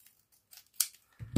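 Scissors snip through the plastic packaging of a parcel, a few quiet close cuts followed by a louder crunching cut at the end.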